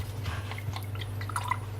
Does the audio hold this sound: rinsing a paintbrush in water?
yes